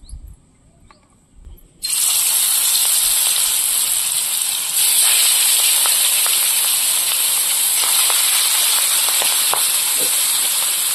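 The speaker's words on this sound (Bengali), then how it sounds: "এবার মাছগুলো ভেজে নেব, তেল দিয়ে দিচ্ছি।" Large kan magur catfish from the Matla river in the Sundarbans dropping into hot oil: a sudden loud hiss becomes a continuous close sizzle, peppered with sharp spattering pops.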